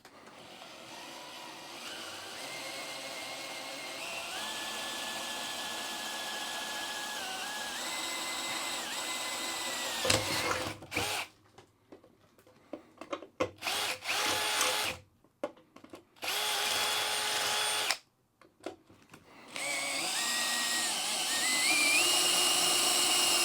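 A power drill bores holes through the deck of an older Contessa 32 yacht, whining up and down in pitch in long close bursts, then in short stop-start pulses with quiet gaps between them.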